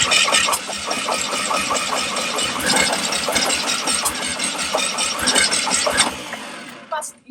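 Fiat 126 engine cranking and sputtering into a rough, rapid chugging run, loud and close, after carburetor work, then cutting out near the end, with voices talking over it.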